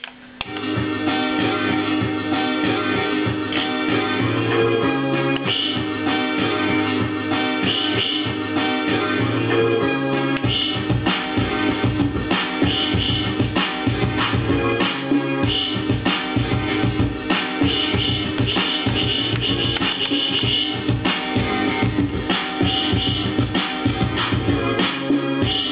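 A beat sequenced on a Boss SP-505 sampler plays as a continuous loud loop with a steady, punchy low kick pattern under layered sampled sounds. No one talks.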